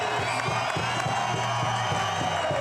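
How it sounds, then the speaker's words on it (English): Crowd roaring and cheering at the FISE Montpellier 2024 BMX freestyle spine ramp contest, a continuous dense wash of voices with no distinct talk. "Listen to the crowd roar."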